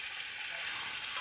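Marinated meat frying in a pan during kosha-style cooking, a soft continuous sizzle, close and fairly quiet, with no talking.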